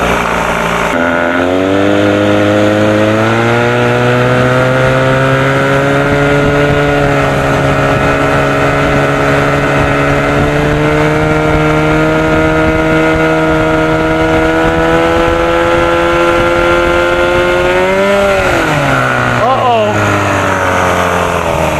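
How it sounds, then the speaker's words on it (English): A 1976 Evinrude 25 hp outboard motor with a spun hub drones loud and close at steady pitch, rising and dipping briefly near the end, with wind and water noise around it. "is that a spun hub? Sounds like the freaking spun hub, baby."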